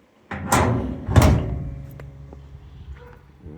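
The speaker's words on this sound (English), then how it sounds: "Shut the door." Two solid thumps of a car door slamming shut on an old Mitsubishi Lancer bought as a cheap fixer-upper, close and loud, about a second apart, followed by a faint rattling tail.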